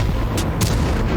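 A tank video game battle produces a deep booming explosion with sustained rumbling and a couple of sharp bursts, loud and dense with no speech.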